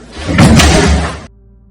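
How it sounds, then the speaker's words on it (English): Tower doors fling open in an animated adventure, a loud broadband whooshing burst lasting about a second before cutting off to quiet. "The doors to the tower fling open."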